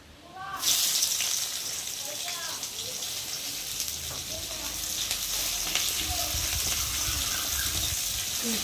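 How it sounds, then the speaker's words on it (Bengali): Onions hit a little hot oil in a wok for a home-style Bengali meal, setting off a sudden loud sizzle that settles into a steady, close frying hiss for several seconds. "এখন কড়াতে তেল দেবো অল্প করে একটু তেল আছে আর একটু অল্প করে দেব আর এখন আমি দেবো পেঁয়াজ"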